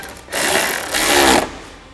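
A power tool runs in two loud, close bursts while snugging door hardware on a Polaris RZR Pro R fitted with SuperATV aluminum doors, its whirring steady with a brief dip between pulses.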